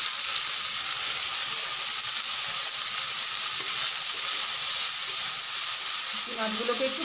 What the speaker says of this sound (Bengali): মাছগুলোকে একটু ভালো করে ভেজে নিতে হবে, না হলে কাঁচা গন্ধ করবে।